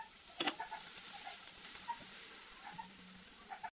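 Tomatoes hit hot oil with ginger and onion, a soft steady sizzle with a sharp clatter of stirring near the start and light scraping afterward, close but quiet.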